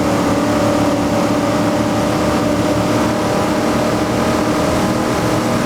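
Computer-driven 1977 Holden and Ford muscle cars at Bathurst in the Assetto Corsa racing game, engines revved hard in a continuous loud, buzzing drone that stays level throughout.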